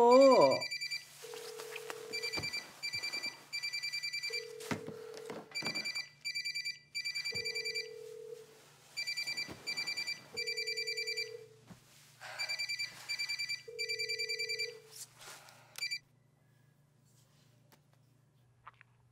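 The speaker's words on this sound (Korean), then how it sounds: "전화 좀 받아." A telephone rings with a repeated electronic ringtone, bursts of bright tones in a steady pattern over a low hum, playing on for most of the clip before stopping near the end.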